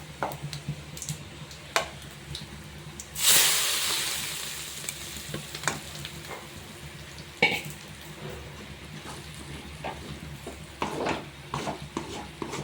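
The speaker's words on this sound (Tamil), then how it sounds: "கடைசியாக தாளித்து கொட்டிக்கிங்க" Hot tempering poured over a cooked bitter gourd dish bursts into a loud sizzle that fades, surrounded by lighter crackling, spoon taps and scattered clicks.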